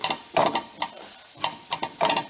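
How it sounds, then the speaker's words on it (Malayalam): Ingredients with curry leaves sautéing in a pan for a Kerala snack filling, heard as short bursts of stirring and scraping over a soft sizzle, close up and with no voices. "ഇതിൻ്റെ റോ ടേസ്റ്റ് മാറണ വരെ ഒന്ന് വഴറ്റിയെടുക്കുക"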